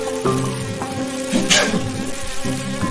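Buzzing flies in the video game Tohu; a continuous insect drone with wavering pitch hums throughout, close and fairly loud, mixed with soft game sounds and no talking.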